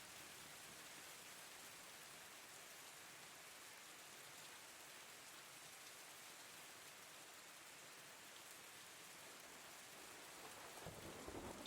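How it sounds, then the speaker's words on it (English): Steady rain hisses softly and evenly as background ambience for a Dungeons & Dragons session, with a faint low rumble of thunder rising near the end. "despite the rain and thunder"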